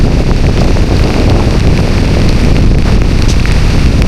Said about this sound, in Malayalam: നല്ല മഴ, നല്ല കാറ്റ്,